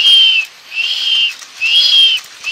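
A rolling toy game gives a steady, high-pitched whistle in three long, even swells with short gaps between them, loud and close with no talk.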